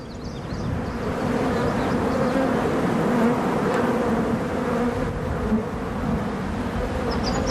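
Honey bees buzz in a dense, continuous drone around a hive, loud and close, with no voices.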